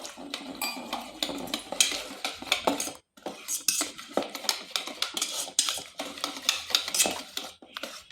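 A utensil stirring thin flour batter in a bowl for aloo paratha, with busy scraping and clinking against the bowl, steady rhythmic strokes close up, a brief pause midway, no speech.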